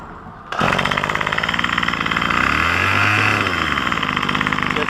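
A Craftsman string trimmer's small two-stroke engine, undergoing carburetor tuning, starts up abruptly into a loud buzzing idle, then revs up and settles back down, close and continuous.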